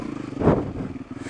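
A motorcycle with an oil problem ridden slowly along a green lane in Hampshire, its engine a low steady throb that swells briefly in the middle before easing back.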